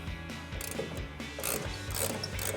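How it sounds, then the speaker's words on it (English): A 3/8-inch ratchet turning a T30 Torx bit on the tail light bolts of a 2014-2021 Toyota Tundra, with quick repeated pawl clicks in short bursts, close and clear. "So now I'm going to take my T30 Torx and my 3/8 ratchet,"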